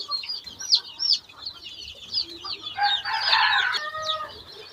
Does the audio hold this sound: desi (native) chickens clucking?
yes